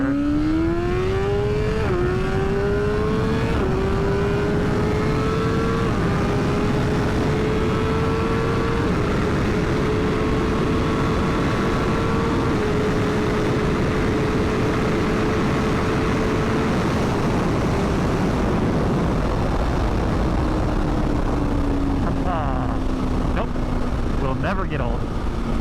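A 2020 BMW S1000RR motorcycle engine pulls hard in first gear on a track, its loud, continuous high-pitched wail climbing and shifting with wind rush over it.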